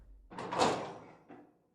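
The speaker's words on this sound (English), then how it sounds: "Zorro opens the door" A door swings open in a single short burst of creaking and rattling, then a softer knock, with no voices.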